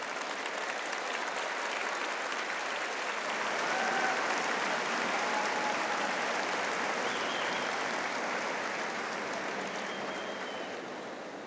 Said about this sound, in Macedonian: Стварно мислев аплаузов подугачко ќе трае.